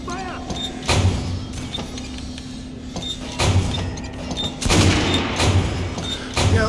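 Gunfire in Metro Last Light Redux: a run of sharp, loud shots at uneven intervals, each a hard crack with a short decay over a low background hum.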